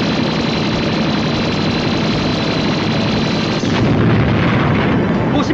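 The GigaStreamer weapon fires a loud, steady roaring energy blast with a thin high whine over it, swelling slightly near the end.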